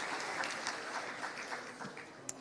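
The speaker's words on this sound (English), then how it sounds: "Please give me a big clap, big hands if you are ready" Faint, distant audience clapping at the inaugural session of an Asia regional conservation forum, a soft, diffuse patter of many hands that stays low and even throughout.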